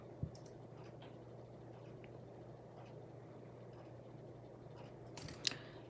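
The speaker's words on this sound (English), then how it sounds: "all you need to do is snip off the excess wire and tuck in the tail" Wire cutters snip excess wire on handmade rainbow hoop earrings: two short, sharp clicks, one near the start and one near the end, over a faint steady hum.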